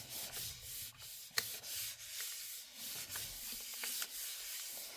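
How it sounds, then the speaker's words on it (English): A hand rubs a stencil print down onto a gel printing plate, a soft, steady brushing friction with a few faint taps, close and quiet with no voices. "give it a good rub"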